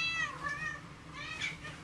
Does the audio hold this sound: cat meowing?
yes